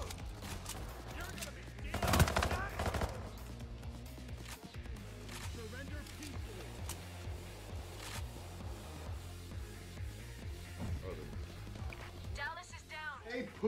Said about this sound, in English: I'm just gonna go shoot